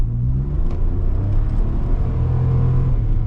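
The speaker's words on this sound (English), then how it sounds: "that was me flooring it that hot second" A 2022 Mitsubishi Mirage accelerates at full throttle, its small engine droning in a steady rumble heard from inside the car, with no voices.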